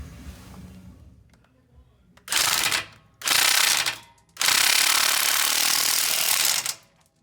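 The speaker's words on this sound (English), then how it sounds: "then I'm gonna impact this on" Impact wrench tightening a bolt on a Jeep JK front end, heard as three loud, close rattling bursts: two short hits followed by a long sustained run, after quieter handling noise.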